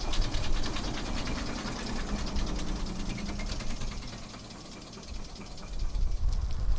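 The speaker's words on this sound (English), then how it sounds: "The Marshall traction engine that we saw earlier in the coaling yard passes us by now" A rhythmic mechanical chugging and clattering of a Marshall steam traction engine rolls past close by at a steam gala, loud and steady, with hissing and rumbling throughout.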